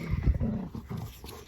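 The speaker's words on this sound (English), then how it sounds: "the dogs are fighting behind me." Dogs fighting at close range behind a garden plant shopping trip, with short rough growls and snarling bursts in quick succession.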